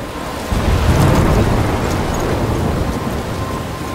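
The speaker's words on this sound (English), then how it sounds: "I'm trapped in a storm?" Thunderstorm with heavy rain in the video game Life is Strange, a dense steady wash of rainfall with a low rumble of thunder swelling early and rolling on.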